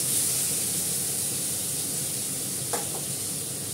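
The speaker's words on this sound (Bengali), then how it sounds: "আমি এটাতে একটু মেথি ফোড়ন দেবো মাছে।" Fenugreek seeds sizzle in hot oil in a kadai for fish. A steady, close hiss of frying runs throughout, with a brief scrape of a spatula near the end.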